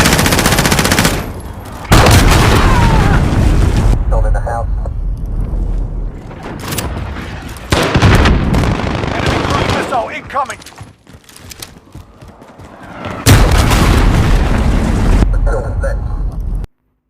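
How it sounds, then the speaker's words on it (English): Cruise missile strikes and gunfire in a shooter video game: loud bursts of blasts and rapid firing come in several heavy waves with quieter gaps between, and a voice talks over parts of it. "Enemy cruise missile incoming."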